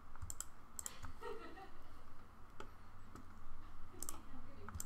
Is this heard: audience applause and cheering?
no